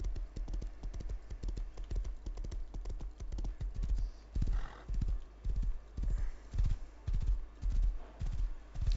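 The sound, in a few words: horse hooves and neighing in Rust video game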